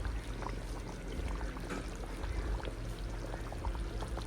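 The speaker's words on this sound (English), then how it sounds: "It's still bubbling, you know." A pot of Guyanese-style duck and squash curry bubbles steadily. The simmer is a soft, continuous gurgle, faint and close, with no voices.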